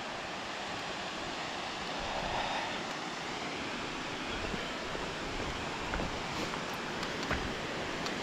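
Waterfall at Kookal near Kodaikanal, a constant broadband rush of falling water heard steadily throughout, fairly soft with faint wind on the microphone.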